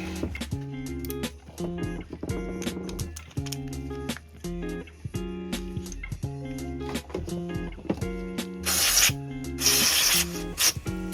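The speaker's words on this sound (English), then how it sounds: "I now just give the whole thing a spray just to make sure no dirt has gone onto the carburetor" Cleaner is sprayed over the carburettor of a Hyundai P5100SPE 4-stroke lawnmower in two short, loud, hissing bursts near the end, over steady background music.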